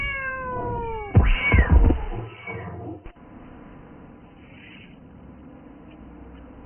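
A cat meows loudly in a drawn-out, wavering cry, followed by quieter background noise and a faint rustle.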